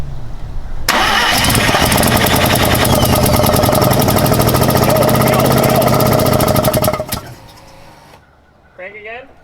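A 1979 Mazda RX-7 rotary engine cranks over and catches, running loud and steady for several seconds with a buzzing rhythmic rasp before cutting off abruptly; brief voices follow afterward.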